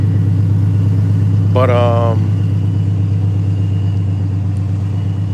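A car engine idles steadily at an impound lot, a constant low hum running throughout, with a brief spoken word partway through.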